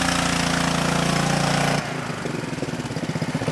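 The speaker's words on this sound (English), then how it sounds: "It's a power washer to clean your computer." A power washer runs loud and steady on a gutted computer, its motor drone dropping in pitch partway through into a rougher pulsing rumble.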